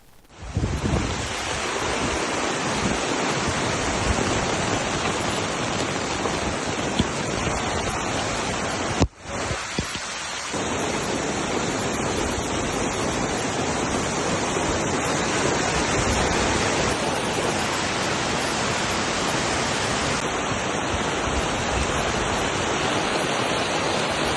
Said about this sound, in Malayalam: മഴയൊന്ന് പെയ്താൽ കൊത്തിയൊഴുകി വരുന്ന മഴവെള്ളം ഈ പ്രദേശത്തെ വീടുകളിലേക്കാണ് എത്തിച്ചേരുന്നത്